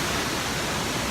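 Close, steady roar of a rushing waterfall heard from behind the falls while climbing, a dense, unbroken wash of water noise filling the whole span with no voices.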